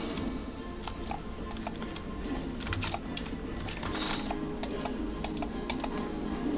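Keys on an aging computer keyboard clatter in steady, uneven bursts of typing during gameplay, close and moderately loud over a faint background hum, with no talk.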